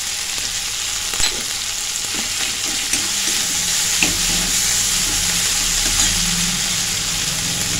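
A paste of ginger, cumin and green chilli fries in oil with turmeric for pointed gourd chops, a steady close sizzle under regular scraping strokes of the stirring spoon.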